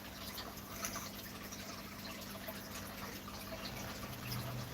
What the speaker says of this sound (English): let's do a water change.